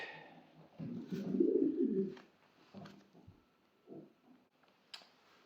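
Soft, low pigeon cooing swells in a rounded burst, followed by a few quieter coos and a faint high chirp, heard close at a pigeon auction with no talking.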